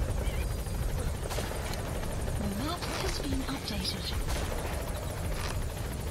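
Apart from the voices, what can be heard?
support helicopter in the video game Metal Gear Solid 5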